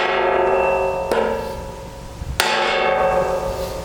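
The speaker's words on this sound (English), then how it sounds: "Piece of wood on the edge, nice big hammer, give it a couple taps." A big hammer strikes a piece of wood held against the edge of a Land Rover Discovery 2 front bumper, giving two sharp, separate taps with a short metallic ring over a low background hum.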